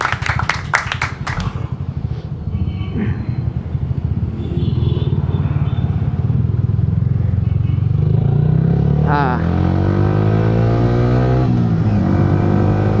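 A motorcycle rides along a road, its engine rumbling steadily and loud up close, revving and gathering speed in the second half, with some clatter early on.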